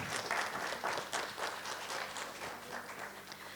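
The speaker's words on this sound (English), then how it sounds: "So a huge round of applause for her." An audience claps at a women's health summit in India, a dense and continuous round of applause that sounds moderately distant and lasts a few seconds.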